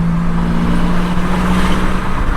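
A customer's car is test-driven after a fuel injector repair that had left it blowing black smoke; a loud, steady engine drone with road rumble runs unbroken throughout.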